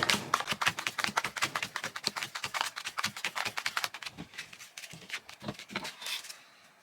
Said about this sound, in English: Then shuffle the dark back cards